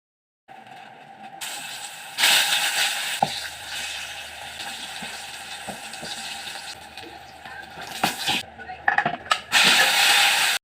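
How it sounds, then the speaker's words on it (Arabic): Eggplant slices frying in oil in a pan, with steady sizzling and crackling alongside occasional clinks of utensils and pan handling, swelling louder in short bursts toward the end. "وبعد بقى ما قلينا البتنجان كده"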